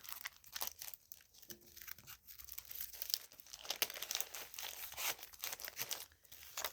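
Small sticker packets flipped through by hand, giving steady soft crinkling and rustling of paper and plastic with scattered sharper crackles, close and fairly quiet throughout.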